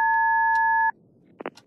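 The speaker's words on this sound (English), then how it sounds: "Please leave your message after the beep." A video game answering machine sounds a single steady electronic beep lasting nearly a second, loud and clean, followed by a few faint clicks.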